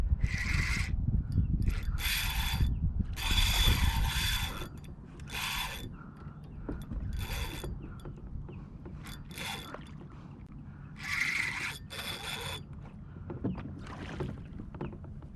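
A fishing reel's drag ratchets in rapid clicking bursts as a redfish pulls line in muddy water, loud and close, with repeated surges separated by quieter gaps and a low rumble of boat and water underneath.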